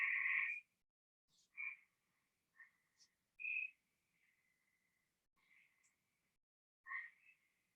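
Hyla chrysoscelis, Cope's gray treefrog, played from a recording: a series of short buzzy trills spaced a second or two apart, clear and isolated against a quiet background.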